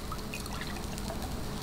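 Egg whites pour from a container into a bowl, a soft, steady liquid trickle lasting a couple of seconds, close and quiet, with no talking.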